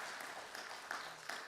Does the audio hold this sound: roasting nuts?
no